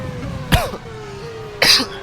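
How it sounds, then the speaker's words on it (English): Two sharp coughs ring out close up, about a second apart, over a steady background hum. "And again, need to cough."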